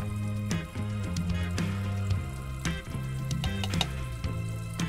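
Garlic butter sizzling in a pan on a portable single-burner camping stove, a steady close crackling fry with scattered pops and light stirring taps, no talk.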